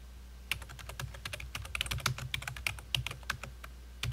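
Computer keyboard keys clatter in a quick, uneven run of crisp clicks while someone types, close and moderately loud with no talk over them.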